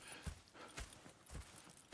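Horse hooves clip-clop at a steady walking pace in Red Dead Redemption 2, four faint, evenly spaced thuds over quiet ambience.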